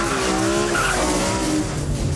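A BMW E46 M3 CSL driven hard on a track, a loud engine tone shifting in pitch mixed with screeching tire squeal as the car corners, continuous and close.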